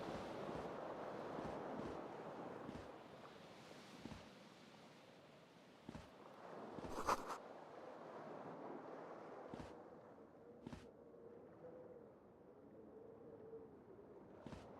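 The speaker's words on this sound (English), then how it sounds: "A cool wind gushes in." Cool wind gushing in from a video game, a soft airy rush with surf-like swells and a few sharp gusts, fairly faint.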